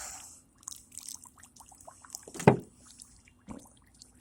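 Water pours and splashes in short uneven bursts onto dirt and metal plates, with one louder splash midway and quiet trickles between.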